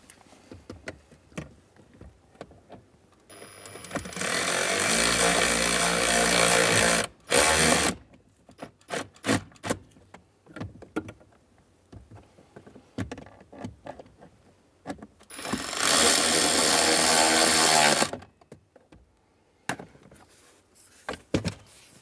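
A powered driver tightens the screws on a blower motor resistor in a Mazda CX-9, two loud whirring bursts of a few seconds each, separated by clicks, taps and handling clatter up close.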